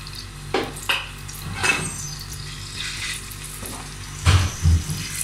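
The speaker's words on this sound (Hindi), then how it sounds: "अदरक को फ्राई करेंगे।" Ginger dropped into a couple of spoons of hot oil, frying with a light sizzle broken by several louder bursts of spatter and the scrape of stirring, close by, no one talking.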